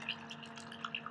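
Old spray foam material being poured through a paint strainer, carrying hardened chunks off cleaned Graco Fusion AP gun parts, heard as a close, quiet trickle with scattered small drips and splashes and no talk.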